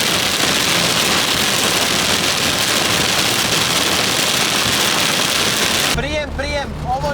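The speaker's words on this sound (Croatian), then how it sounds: "ovo nije kiša, ovo je potop." Rain pours hard on a small old Fiat (Fićo) driving through a severe storm near Zagreb, a dense steady roar of water over the car. A voice comes in at the end.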